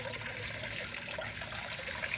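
Water trickles and splashes softly as it returns from a filter into a small storage-bin mini pond, a quiet continuous close-up patter.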